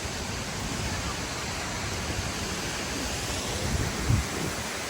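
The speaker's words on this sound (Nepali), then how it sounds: "झर्नाको प्रेसरले हावा आइदिइरहेछ अनि पानीहरू छिटाइरहेछ" Lava Waterfall crashes down in a constant, close roar of rushing and spraying water, thick and unbroken, with wind buffeting the microphone and no voices audible.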